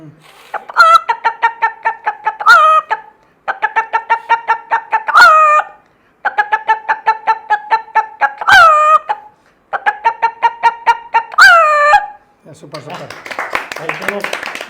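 A voice mimics a frightened chicken clucking at the sight of a cat. Rapid runs of loud, close clucks are punctuated by rising squawks, with a noisy rustle at the end.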